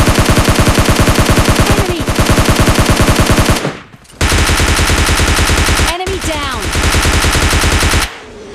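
Rapid automatic gunfire from the mobile shooter PUBG Mobile Lite, loud sustained bursts with a short gap near the middle and a pause near the end, with no talking.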